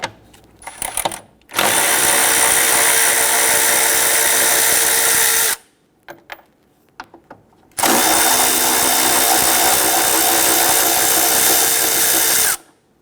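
A power driver spins out 10mm bolts on the transmission mount of a 2017-2020 Hyundai Elantra 2.0L, two long loud steady whirring runs of several seconds each, separated by a pause with small clicks and handling noises.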